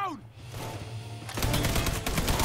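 Rapid bursts of gunfire in a Mafia 3 shootout from the Stones Unturned DLC, erupting loud and dense after a second of quieter game ambience and continuing as close, repeated shots.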